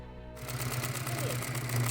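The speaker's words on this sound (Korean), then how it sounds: "이제 조각난 가죽들을 재봉틀로 잇는 작업" A sewing machine stitches cut leather pieces together in a shoemaker's workshop. It gives a rapid, steady mechanical whir over a low motor hum, close and continuous, with no voices.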